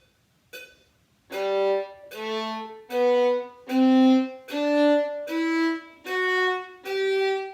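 Orchestral string instrument plays a rising then falling scale with one hooked bow stroke per note, about eight sustained separate notes in steady rhythm, close and clear with no talking.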